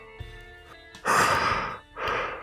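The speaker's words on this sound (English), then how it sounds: "Wait, was that a yawn?" A long, drawn-out breathy exhale rises and swells, trailing off before a second shorter breathy sigh follows, close by and fairly loud.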